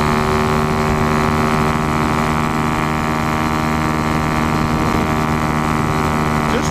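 A boat motor chugging along at 72, below full throttle, a loud continuous droning hum with steady low tones and rushing noise, unbroken throughout.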